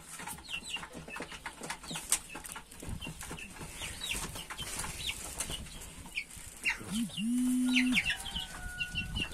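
Young Hint (Indian) and Splash Wyandotte chickens and roosters cluck and chirp in bursts, with wing flapping, scattered calls and one longer sustained call near the end.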